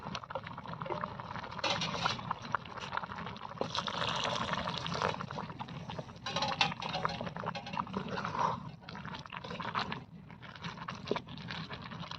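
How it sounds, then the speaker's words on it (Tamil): Water poured into a pot of bottle gourd and moth bean rice cooking on an outdoor stove, a soft continuous splashing and gurgling that is fairly faint and steady. "கொஞ்சம் தண்ணி ஊற்றிக்கலாம்."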